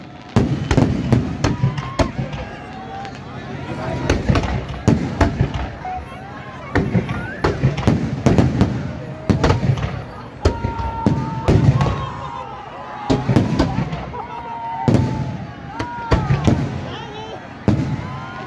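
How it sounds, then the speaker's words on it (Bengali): Fireworks bursting over a stadium spring festival, a rapid series of loud cracks and booms with crackling trails, mixed with crowd noise and people talking. "ফুলের মতো ফুটছে আকাশ জুড়ে বাজি।"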